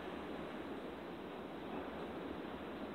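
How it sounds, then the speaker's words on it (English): Steady outdoor wind roaring continuously with a broad, even rush and low rumble, no voices. "I don't know if you can hear it outside now, but it's windy"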